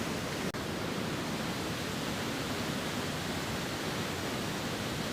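A river flows with a steady, dense rushing wash of water, broad and continuous, close and fairly loud with no talk over it.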